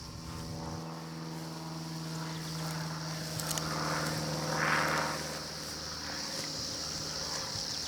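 Small propeller plane flying over Maasai land during a rhino capture operation, a steady droning engine hum that swells slightly as it passes, heard alone without talk.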